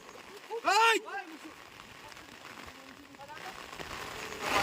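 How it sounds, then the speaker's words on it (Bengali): Soft, steady rain falls over a Bangladeshi outdoor video shoot as a faint, continuous hiss, with a short tonal voice-like call near the start. "এই যে দুদিন ধরে একভাবে বৃষ্টি পড়ছে"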